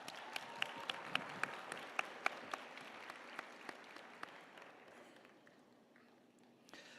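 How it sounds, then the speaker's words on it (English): A commencement audience gives a round of applause, sharp individual claps rising over a dense, roomy patter and then thinning out and fading toward the end. "Please give them a round of applause."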